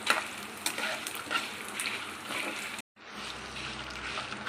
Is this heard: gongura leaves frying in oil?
yes